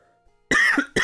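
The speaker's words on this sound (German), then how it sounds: "Entschuldigt das Husten" Two close, loud coughs from a man playing Dwarf Fortress, a sharp hacking burst followed by a shorter second one after near silence.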